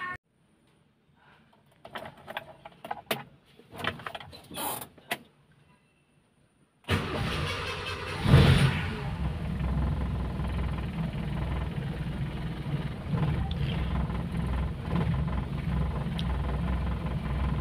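A few faint clicks and rattles, then a Suzuki Katana engine cranks and catches, revving briefly before settling into a steady, rumbling idle.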